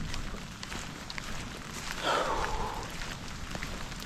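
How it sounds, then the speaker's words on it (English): Heavy rain pours steadily on a flooded camp trail, a dense, continuous hiss with drops pattering close by and no talk. "It has been raining really, really hard"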